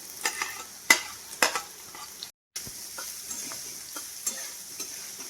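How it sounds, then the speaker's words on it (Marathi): Onions sautéing in a pan until reddish: a steady low sizzle punctuated by repeated scraping and tapping of a spatula stirring, with a brief silent gap midway. "कांदा लालसर छान परतून घ्यायचा आहे"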